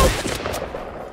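Bursts of gunfire in the video game Fortnite, a loud, rapid volley at the start that decays into a rumbling tail, heard close.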